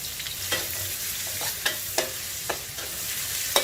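Carrots stir-frying with shallot flowers in a pan, heard as a continuous sizzle with a few sharp scrapes and taps of a spatula tossing the food, close up and without speech.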